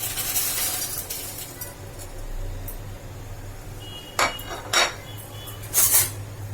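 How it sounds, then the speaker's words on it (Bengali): A ladle stirring chow mein noodles in boiling water in a metal pot, heard as a low steady bubble topped by a few sharp metallic clinks and scrapes near the end. "একটা হাতার সাহায্যে চাউমিনটাকে মিশিয়ে দিচ্ছি।"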